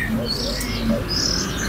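A caged chim chuyền songbird gives a few thin, high calls over a steady low background hum, close by and moderately loud.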